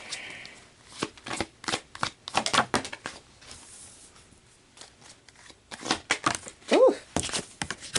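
Tarot cards are pulled out and shuffled, a run of crisp riffling bursts and card flicks close by, pausing briefly midway before resuming, with someone speaking softly between the shuffles.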